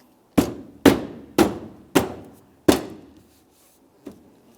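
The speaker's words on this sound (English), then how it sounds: "just give it a loving bonk." Five sharp, evenly spaced thumps as a VW Jetta bumper cover is knocked into place against the fender, each hit ringing briefly, followed by one lighter tap; no talking.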